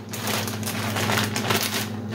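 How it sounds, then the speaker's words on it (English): Scissors cut through the top of a plastic bag of coleslaw mix, a steady crinkling, crackling rustle of plastic lasting a couple of seconds, close and fairly loud with a low hum beneath. "So I'm just gonna cut the top of the bag off."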